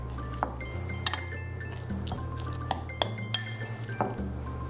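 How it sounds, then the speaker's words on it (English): Spoon scraping and clinking against a bowl while minced garlic is mashed into an herb butter mixture, irregular close taps and scrapes over a low background hum. "And now I'll just use the spoon here, and I'm going to mix this up."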